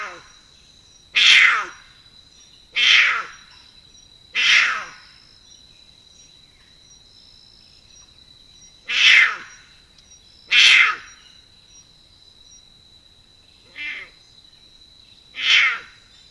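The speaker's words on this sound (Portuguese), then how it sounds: "Esse rugido aí, não faz a alma sair do corpo, Luciano." A jaguar caught on a camera trap in a national park gives a series of loud, rasping roars. The grunting bursts repeat at intervals of a couple of seconds, with quiet between them.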